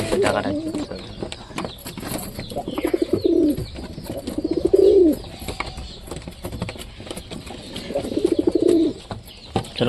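Pigeons coo in soft, throaty rolling phrases, several calls repeating at intervals amid rustling and light background noise.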